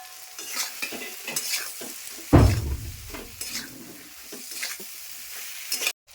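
Okra hits hot oil with a sudden loud sizzle, followed by scraping and stirring in the pan as the frying settles into a steady crackle.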